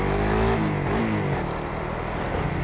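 A Raider 150 Fi manual motorcycle engine runs close by, its steady mid-pitched drone dipping and rising as gears are shifted, with no talk over it.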